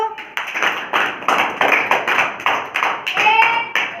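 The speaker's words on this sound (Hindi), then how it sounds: "तालियां बजाओ।" Hands clap in a classroom, about a dozen sharp, evenly spaced claps in a steady rhythm, close and loud, with a brief voice at the start.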